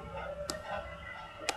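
A chicken in Minecraft gives two short, separate clucks, faint and quick, against a quiet game background.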